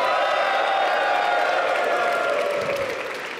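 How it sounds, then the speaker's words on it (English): A large conference audience cheers and applauds together on cue, a dense burst of clapping and whooping that fills the hall, then slowly fades. "what I need you all to do is cheer on the count of three"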